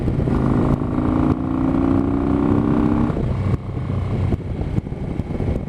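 A Harley motorcycle engine roars steadily during a ride through a park in southwestern Pennsylvania, loud and close with a continuous drone. Its tone shifts partway through, with brief dips and surges in volume.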